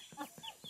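Short clucking calls from a hen that has hatched eggs, three quick bursts close by with no talking.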